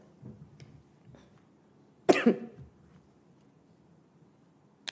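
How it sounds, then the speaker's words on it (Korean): A single harsh cough bursts out near the microphone, followed by a soft throat sound, against a quiet room background. "제가 자꾸 기침이 나와요."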